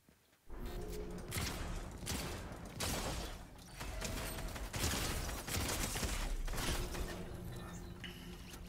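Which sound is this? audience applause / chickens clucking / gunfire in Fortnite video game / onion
gunfire in Fortnite video game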